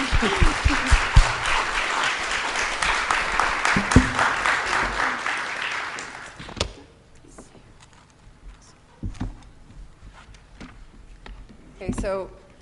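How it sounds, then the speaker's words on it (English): A conference audience at a plenary session gives loud, sustained applause for about six seconds, which then fades as a speaker begins talking over quiet room noise. "Big round of applause to Mona and Yasmin and Madam Asr."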